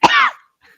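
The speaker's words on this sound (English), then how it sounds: "That's how I learned ghosts could cough." A single short, loud, theatrical cough, one harsh burst trailing into a raspy throat-clearing tail, then a faint brief echo-like rasp before silence.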